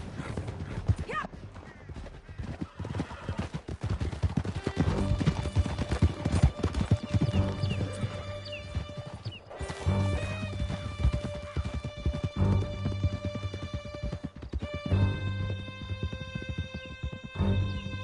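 Horse hooves galloping steadily in a Red Dead Redemption 2 canyon chase, a rapid clip-clop rhythm running throughout, up close and loud under game music and occasional whinnies.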